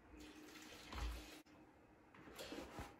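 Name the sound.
lukewarm water being poured gradually into bread dough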